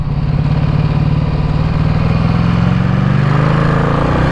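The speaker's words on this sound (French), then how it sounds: "quand j'essaie d'avoir un filet de gaz, elle fait des petits à-coups comme ça" A Ducati XDiavel motorcycle engine runs loud and close at low throttle, its steady low rumble carrying slight uneven surges as the bike jerks slightly on a small opening of the throttle.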